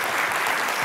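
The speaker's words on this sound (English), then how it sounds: "A round of applause for our distinguished speakers here." An audience breaks into steady, dense applause for the speakers at an SDG Digital event, a continuous wash of clapping held at an even level throughout the short stretch.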